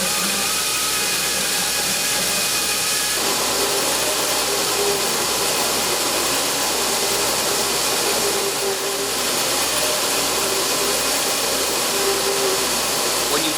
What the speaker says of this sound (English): Press and hold the start button to power the drill shaft.